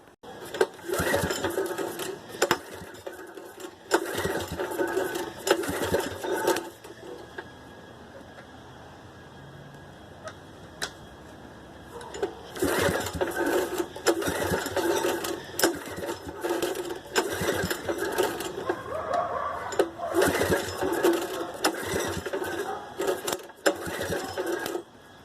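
A 9hp Briggs big block small engine fitted with a 6.5hp Tecumseh carburetor starts and runs in rapid, rattling bursts. It fires for several seconds, goes quiet, then catches again and runs longer, loud and close.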